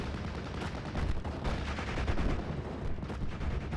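Dense, continuous video game gunfire from Thompson submachine guns and light machine guns, overlapping automatic bursts with no pause, loud throughout.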